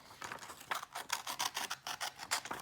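Scissors snip through paper or card while finger puppets are cut out, a quick irregular run of crisp close cuts with no voices.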